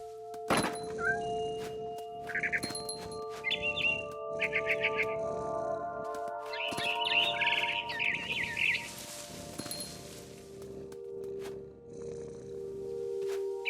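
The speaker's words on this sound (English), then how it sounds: "Then I heard chirping outside my window. It was a barn swallow going back to her nest." Barn swallow in the video game What Remains of Edith Finch: several short bright chirps and twittering bursts from the bird, over a sustained musical drone with soft thuds, no talking.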